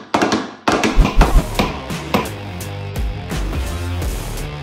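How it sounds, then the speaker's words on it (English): Repeated metal banging on the fuel tank of a 2024 KTM 250 Duke being built into a stunt bike in a workshop, a fast burst of loud, close clanging hits that settles into a steadier ringing, with no talk. "So let's see, let's smash the tank."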